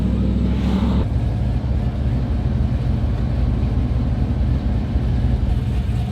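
A trophy truck engine runs loud and steady from start to finish, rumbling low under broadband road and wind noise while the truck drives at speed, with a brief brighter burst in the first second.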